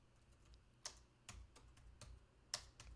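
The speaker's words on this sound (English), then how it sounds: "Oh my goodness, this keyboard." Quiet, sparse keystrokes on a computer keyboard during live coding, a handful of separate clicks spread irregularly over a faint room hum with no talking.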